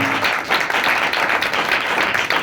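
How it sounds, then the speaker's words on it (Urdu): Church congregation applauds loudly in a brief, dense burst of clapping close by, steady across the short stretch with little talk. "اگر سمجھ آئے تو زوردار تالیاں بجائیں"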